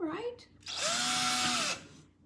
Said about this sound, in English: So what you wanna do is just drill your holes.